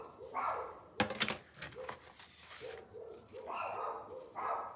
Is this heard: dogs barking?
yes